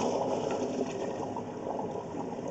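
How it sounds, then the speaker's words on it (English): Toilet flush inside a house sewer line, heard from within the 4-inch pipe as a steady rushing, gurgling flow of water that stays broad and continuous, moderately loud with no talking. "Somebody flushed the toilet."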